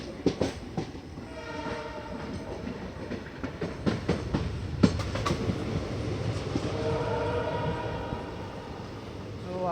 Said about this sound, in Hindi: हासन जंक्शन से निकलने के बाद हमारी ट्रेन की अब 2 ट्रेनों के साथ क्रॉसिंग होने वाली है